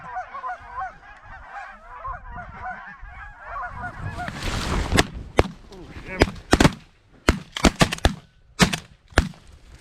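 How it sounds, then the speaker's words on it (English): Mallard ducks call with stuttering goose-like honks and quacks as they fly in during a snowy North Dakota hunt, followed by a run of loud, sharp shotgun blasts from an over-under. "Ducks coming in front."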